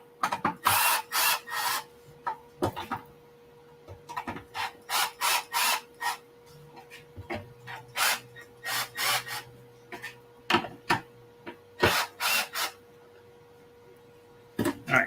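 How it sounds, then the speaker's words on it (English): A screw is backed out of wood with a tool in a series of ratcheting, grinding bursts, repeated turns separated by short pauses, close and with no talking. "so back the screw out."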